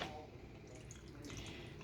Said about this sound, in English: So I'm going to start with my almond milk. Just stick this right here. I'm just going to pour